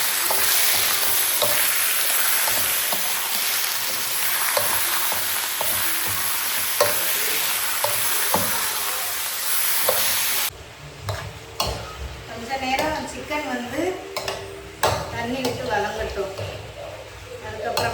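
Chicken coated with salt and turmeric frying in a home kitchen pan, with a loud steady sizzle and scraping stirs for about ten seconds, then quieter clinks and cooking sounds with a voice talking.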